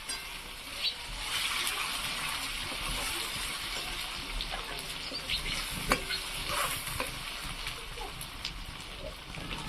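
Tomatoes hitting hot oil with onion and garlic in a pan, a fairly quiet steady sizzle and crackle with soft repeated stirring scrapes throughout, no voices.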